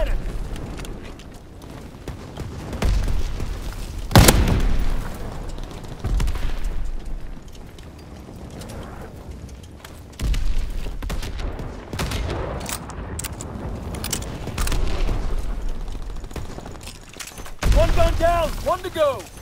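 An explosive charge goes off on an artillery gun in the Call of Duty WWII video game, loud bursts standing out among scattered gunfire and booms in a battle din, with voices shouting between blasts.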